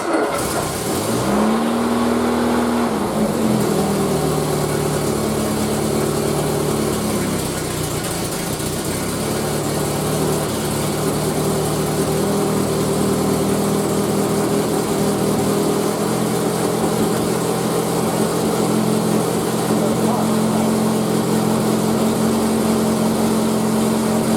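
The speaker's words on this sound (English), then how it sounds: "Okay, so with the new timing, let's see how she wants to start." A Triumph Spitfire engine on full choke in neutral with newly adjusted timing cranks briefly, catches, and settles into a steady, loud, close idle that runs throughout without any voices.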